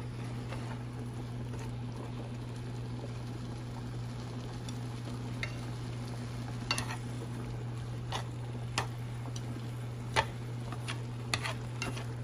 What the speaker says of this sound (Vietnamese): Xào cho nó thấm gia vị.